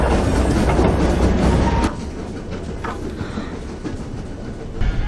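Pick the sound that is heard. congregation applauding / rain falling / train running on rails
train running on rails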